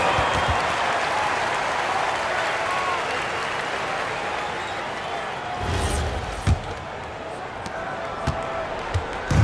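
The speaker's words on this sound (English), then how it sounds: "Fans, please give a big round of applause for your Kings team." A large basketball arena crowd at a WNBA game applauds steadily in a dense, continuous roar, with a few sharp thuds and bangs standing out near the end.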